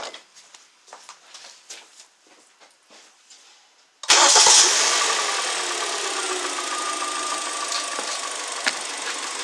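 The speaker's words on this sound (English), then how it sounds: "So when I turn the car on" A Hyundai Elantra engine cranks and catches with a sudden loud start, then settles into a steady idle; quiet handling noises come before it.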